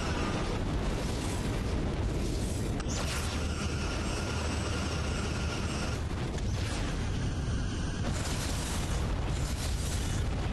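A Borg vessel exploding in the space combat game Star Trek Legacy, a dense, sustained roaring blast with crackling bursts that stays loud and continuous throughout.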